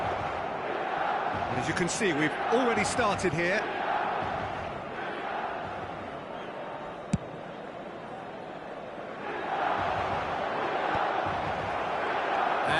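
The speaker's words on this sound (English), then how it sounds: "Red and black wherever you turn, the San Siro is buzzing." A packed San Siro crowd hums and buzzes before a Milan match, a continuous broad murmur of many voices with a few louder swells, heard under someone talking.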